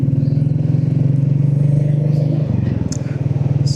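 A Royal Enfield Classic 350 Signals Edition motorcycle riding along, its single-cylinder engine thumping steadily and close, with a brief dip and rise in engine note near the end and wind rustle throughout.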